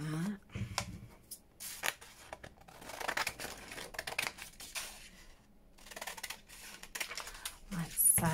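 Scissors cutting paper for a junk journal, repeated close snipping and rustling strokes in irregular bursts, with quiet handling of paper between them.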